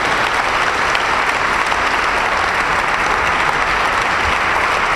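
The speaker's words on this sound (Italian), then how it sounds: "Dobbiamo fare un applauso a Blasco perché l'ha resa in questa maniera" Audience at a talk event applauding Blasco Pisapia: dense, steady clapping from a full room that stays loud and even from start to finish, with no voices over it.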